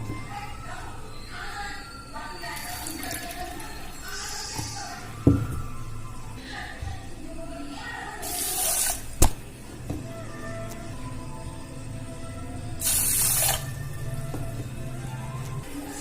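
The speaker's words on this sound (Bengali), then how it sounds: "এবারে এই কাপেরই 2 কাপ জল দিয়ে দেব" Two cups of water are poured from a cup onto sugar to start a syrup, as two short splashing gushes over a faint, quiet kitchen background.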